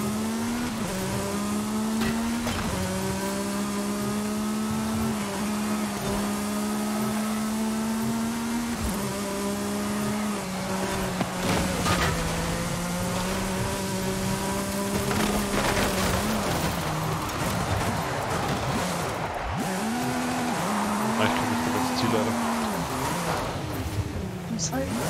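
A car engine revs and accelerates through gears in the Forza Horizon 5 racing game in Mexico, holding a continuous loud drone with rising and falling pitch sweeps as someone talks over it.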